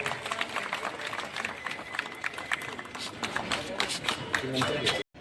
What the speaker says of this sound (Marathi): जोरदार टाळ्या झाल्या पाहिजे.